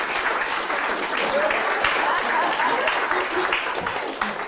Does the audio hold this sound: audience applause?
yes